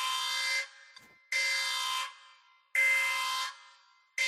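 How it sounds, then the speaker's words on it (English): Electronic alarm horn effect blaring in three long loud bursts separated by short gaps, with no voices. "Ring that alarm."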